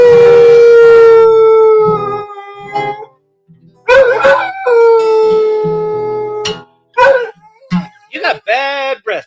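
A dog lets out long, drawn-out howls that waver and fall, then breaks into shorter yelping cries, loud and close with brief gaps between them.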